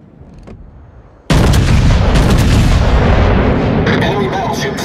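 Naval artillery in World of Warships fires with a sudden, very loud blast that rolls into a sustained heavy roar. A quieter stretch comes before the shot, and a faint voice may sound under it.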